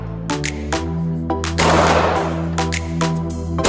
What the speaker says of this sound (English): Boys wanted to shoot some guns